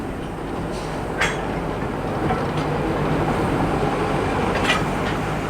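A geared steam locomotive shuttles up and down a yard nearby, rumbling low and continuous, with a few sharp metallic clanks punctuating the heavy rolling noise.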